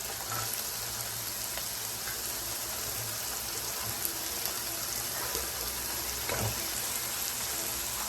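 Chopped carrots and beans sauté in oil with onion and ginger-garlic paste, giving a soft, rain-like patter of crackles and faint sizzle that stays quiet and steady.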